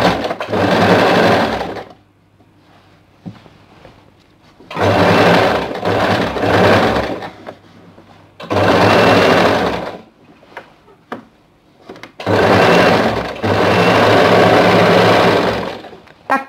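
Sewing machine stitching a tuck on a churidar, running in four sustained bursts of whirring stitching separated by short pauses, close and loud with no talk.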